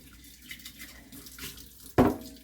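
Hot water runs steadily from a kitchen tap while jars are rewashed, a soft continuous stream that ends with a sudden louder splash near the end.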